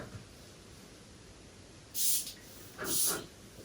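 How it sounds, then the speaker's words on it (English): Two quick bursts of Areej Le Doré Cuirtis perfume sprayed onto the neck, short sharp atomizer hisses close to the mic after a quiet stretch. "I will spray it on my neck."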